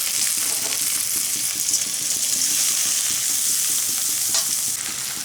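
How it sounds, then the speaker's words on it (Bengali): Red lentils frying with onion and garlic in a pan, a loud continuous sizzle with soft rhythmic stirring scrapes running beneath it throughout. "মুসুরির ডালগুলো দিয়ে খুব ভালো করে ভেজে নিতে হবে"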